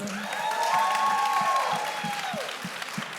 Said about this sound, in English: So let's give the cast a round of applause.